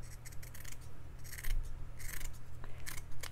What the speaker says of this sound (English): I'll probably cut up this burlap further